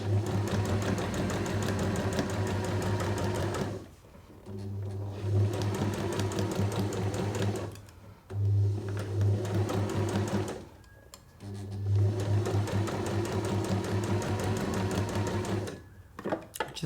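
A sewing machine runs in steady bursts as fabric is stitched around a curve for reusable makeup remover pads, its loud mechanical whir stopping briefly at intervals while the fabric is pivoted.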